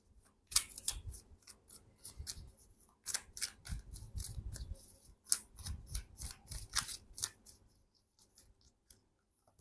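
Oracle cards are shuffled and pulled from a deck of angel oracle cards, giving several bursts of crisp papery riffling and flicking, close and moderately loud, with short pauses between them and no talking.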